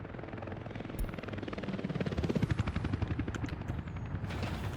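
Helicopters in the city-building game Workers & Resources fly overhead, a fast rhythmic rotor chop that swells and fades over a few seconds, fairly quiet, with small clicks and chimes from the game around it.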